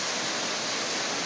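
A steady, dense wash of falling water at Gandahathi waterfall in Gajapathi district, Odisha, fills the moment evenly with no pauses or voices.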